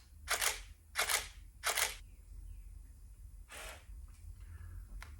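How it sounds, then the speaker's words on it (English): A Nikon D70 digital SLR fires its shutter three times in quick succession, then once more after a pause, each crisp mechanical click close and clear against a quiet room hiss. "So let's listen to this baby fire."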